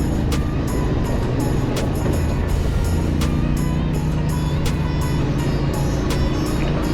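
A Yamaha Tenere 700 motorcycle rides a wide dirt track in Morocco, its engine a constant loud drone with heavy wind buffeting and sharp rhythmic clicks and knocks from the rough ground, close throughout, with no talking.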